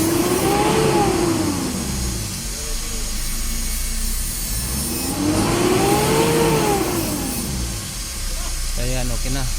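A 2015 Mitsubishi Montero Sport engine runs after a timing belt replacement, idling loudly and close with a steady drone and two slow rev swells rising and falling.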